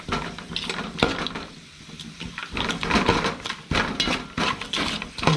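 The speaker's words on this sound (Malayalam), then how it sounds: "ഉപ്പൂടെ ചേർത്ത് നന്നായിട്ട് ഇളക്കിയെടുക്കാം." Onion, garlic, green chilli and ginger stirred and sautéed with salt in a pan, giving a steady close sizzle broken by repeated scraping and clacking of a spoon against the metal.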